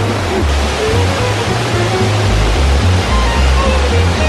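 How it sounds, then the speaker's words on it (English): Waterfalls at Plitvice Lakes National Park in Croatia roar with a steady, loud broadband rush of falling water, continuous and close throughout with no pauses, a faint low rumble running beneath the spray. "We're down where there's a waterfall around every corner."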